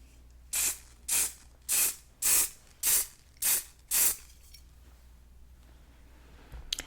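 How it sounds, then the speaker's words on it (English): Seven quick, evenly spaced hisses from an aerosol hairspray can in a hair salon, close and loud, followed by quiet. "I'm gonna spray some hairspray in"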